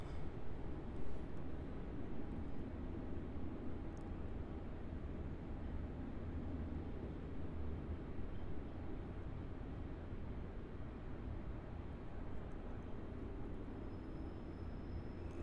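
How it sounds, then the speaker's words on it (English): A Rex Saab 340 turboprop airliner lands on runway 34 at Melbourne Airport, arriving from Mildura, heard as a steady, broad low rumble of engine and propeller noise holding even level throughout, with no talk over it. "arriving in now on runway 34, we have the Rex Saab 340"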